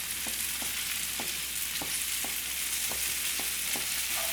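Ladies finger and potato stir-fry being stirred in a pan, a steady frying sizzle under about nine light, regular scrapes of the spatula, fairly quiet and close, no talking.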